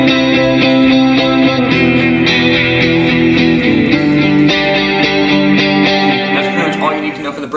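Distorted electric guitar plays a continuous riff from a song in straight eighth notes, with a steady driving rhythm and chord changes, loud and alone before tapering at the end.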